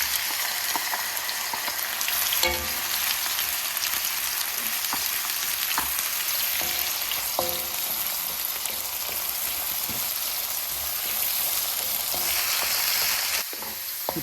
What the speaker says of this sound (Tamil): நான் இப்போது பூண்டை தனியாக, இது பிரண்டையை தனியாக வதக்கப்படும்.